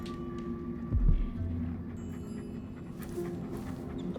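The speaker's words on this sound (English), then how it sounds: "It was just a dog" A dog in the stealth game Dishonored 2 pants in one short, low, breathy burst, followed by quiet ambient game background.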